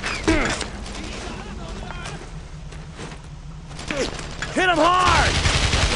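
Gunfire from the World War II video game Brothers in Arms: Road to Hill 30, with a steady crackle of rifle and machine-gun shots. Shouting voices run over the shots, which swell louder toward the end.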